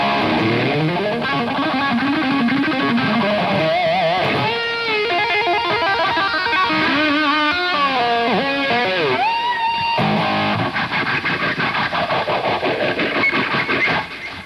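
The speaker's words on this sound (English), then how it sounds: "Take the little phase shifter and turn the knob all the way down so the speed goes as slow as it'll go." Electric guitar played through a small phase shifter set to its slowest sweep, in an early hard rock style, loud and continuous with a slow swirling tone across sustained chords and runs, alone for the full length.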